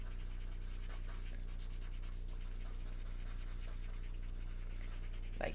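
An alcohol marker scratches softly across paper while drawing a small circle, quiet rubbing strokes repeating in a close, continuous rhythm over a low background hum.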